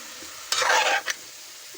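Spice paste with kandoli frying in a pan sizzles close up while a spoon scrapes and stirs it in a brief burst, then the sizzle settles back to a low hiss.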